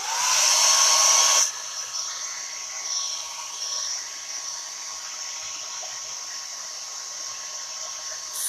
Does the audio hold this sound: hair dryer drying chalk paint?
yes